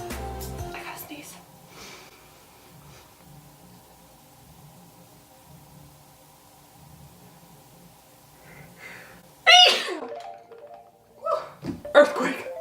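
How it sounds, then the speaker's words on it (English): A single sharp sneeze bursts out loud and close after a stretch of quiet murmured talk during an at-home eye makeup session, with a few more voiced sounds following. "I gotta sneeze."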